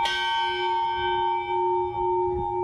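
A ship's bell aboard the Mayflower II rings loudly with a clear metallic strike, its tone ringing on and slowly fading across the deck.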